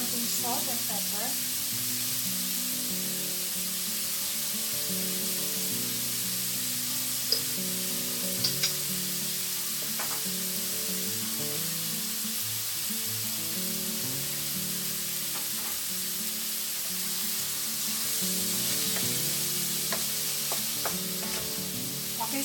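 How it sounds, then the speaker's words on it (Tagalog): Ground pork seasoned with salt and pepper fries in a pan for Filipino-style spaghetti, a steady close sizzle with occasional stirring scrapes and light clinks running throughout. "hayaan na lang muna natin ito dyan ka-French wrap hanggang maging golden brown yung ating ground pork"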